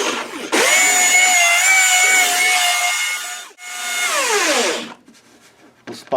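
A hand saw cuts through a copper beech wood tray in two long, loud strokes with a pronounced whining ring, then falls quiet.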